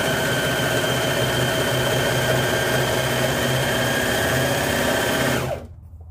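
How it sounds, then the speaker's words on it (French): A Brother Airflow 3000 overlocker stitches fabric with a loud, fast, even mechanical whir that runs continuously and then stops abruptly near the end. "Ma machine est prête, je peux piquer."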